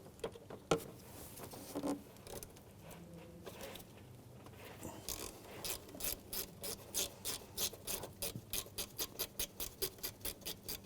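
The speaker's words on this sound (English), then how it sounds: "we're going to remove this bracket here with a 10mm socket" A 10mm socket ratchet turns a bolt on an engine bracket of a 2007-2013 Mitsubishi Outlander, first scraping and handling noises, then a quick regular run of close, sharp ratcheting clicks with no talking.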